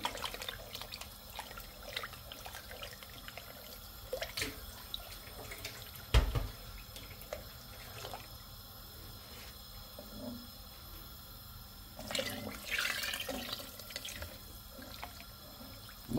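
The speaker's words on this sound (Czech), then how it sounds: "my ešte pridávame vody" Water running from a tap into a pot for frankfurter soup, a quiet continuous trickle and splash lasting throughout with a few clanks and a louder gush near the end, no talking.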